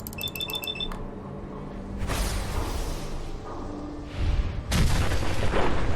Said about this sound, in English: That is a giant missile.